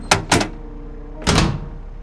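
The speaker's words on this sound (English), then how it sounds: "I slammed the door shut to the cockpit and jammed it shut with a screwdriver" A cockpit door aboard a B-29 Superfortress slams twice in quick succession, then a pause before a third heavier bang, loud and close with no voices.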